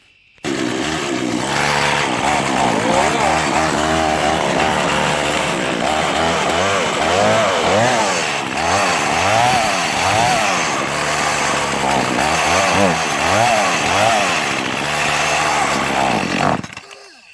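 A Poulan Pro chainsaw running close and loud, its engine revving up and down in repeated surges for about sixteen seconds before cutting off abruptly.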